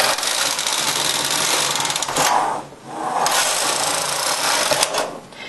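A double-bed knitting machine runs rows of a cap hem, the carriage sliding across with a steady mechanical rasp and clatter, pausing briefly midway before another pass.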